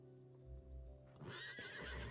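A horse in the video game Star Stable Online whinnies in a short, bright, wavering call with soft clip-clop hooves beneath, heard over a low steady game hum.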